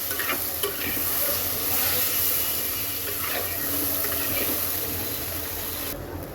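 Shrimp and onions fry in a pan with a steady, close, loud sizzle and hiss that runs throughout, with occasional scraping as they are stirred. There is no talking.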